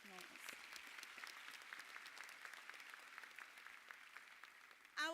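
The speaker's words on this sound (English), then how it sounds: "I think it deserves a round of applause." Steady applause from a crowd, a dense patter of clapping that holds for several seconds, with a brief louder burst at the end.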